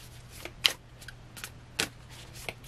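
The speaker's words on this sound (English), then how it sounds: "These cards are hard to shuffle." Stiff tarot cards are shuffled by hand, a sparse series of short, faint riffling snaps and clicks at irregular intervals over quiet room tone.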